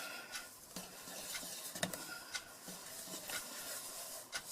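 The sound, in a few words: stirring flour into Nesquik cake batter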